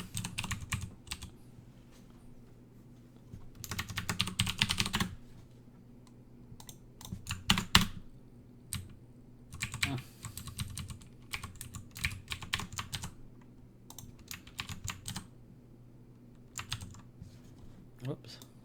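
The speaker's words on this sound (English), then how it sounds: "There's a bit of bad keyboard acrobatics going on there." Typing on a computer keyboard while working on a developer diary authoring tool: bursts of rapid, close key clicks with pauses between them, over a low steady background hum.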